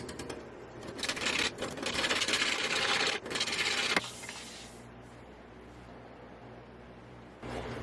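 A large English walnut crotch bowl turning on a wood lathe as a tool shaves down its sides: a loud, steady rasping cut for about four seconds, then the cutting stops and only the lathe's quieter running hum remains.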